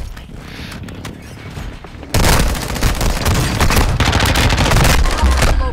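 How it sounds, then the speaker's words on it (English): A precision airstrike in the Warzone video game lands abruptly after a quieter moment, a sudden loud volley of explosions and crackling gunfire that keeps rumbling and rattling for several seconds. "Precision airstrike."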